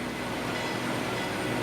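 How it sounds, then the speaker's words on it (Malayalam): A Peru Rail train starting to move, a dense, steady rumble and rolling wheel noise that stays loud and even throughout, with no talk over it. "Peru റെയിലിന്റെ train നീങ്ങിത്തുടങ്ങി."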